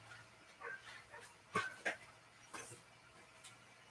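A puppy kept outside gives faint, distant yips and whimpers in short scattered bursts, with a few sharper barks standing out against a quiet background.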